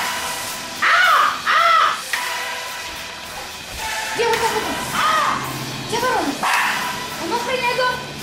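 A crow caws in repeated harsh calls, loud and close, with a dog barking between them and people talking in the background.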